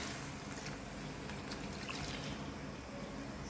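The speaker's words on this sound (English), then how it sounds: "Let us add some water." Hot water pours steadily into a pan of chicken keema, a continuous close trickle and splash running without a break.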